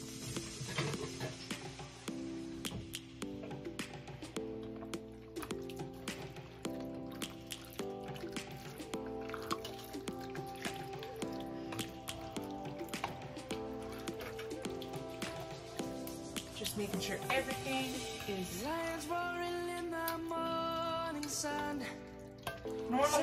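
Ground beef frying in a pan is stirred, giving a steady soft sizzle and crackle with scattered wet scraping and drips, while faint music plays throughout and no one speaks.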